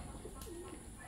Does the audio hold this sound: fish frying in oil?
no